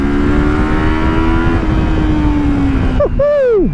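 A 2026 Kawasaki X 300 twin-cylinder motorcycle runs at a loud, steady, tonal drone under hard acceleration, then the pitch dips and climbs sharply again as the revs rise near the end.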